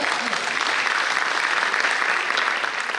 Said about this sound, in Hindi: A big round of applause for our sponsor.